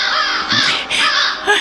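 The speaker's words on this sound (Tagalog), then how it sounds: "Ang malaking uwak." A large crow caws loudly and close by in two or three harsh, rasping calls in quick succession, with no talking.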